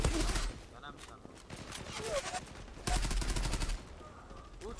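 Pistol fire in the online shooter Zula, a burst of sharp shots early, scattered pops, then a second loud volley near the end, mixed with game noise and excited talk.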